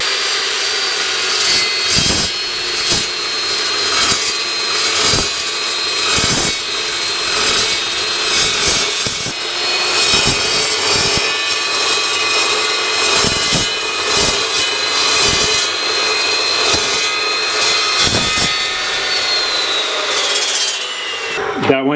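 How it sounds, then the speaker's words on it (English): An Evolution S355MCS metal chop saw cuts through half-inch steel plate, a loud continuous grinding whine with repeated rhythmic pulses as the blade works through, running alone until a brief drop at the end. "Okay, so I'm going to cut the 1/2 inch plate here."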